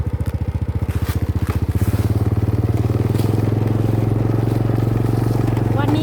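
A motorcycle engine runs close by with a steady harmonic drone, riding onward through the wide, forested grounds of an old temple in Sakon Nakhon, Thailand; the throbbing idle settles into a continuous cruise, with a voice speaking faintly over it.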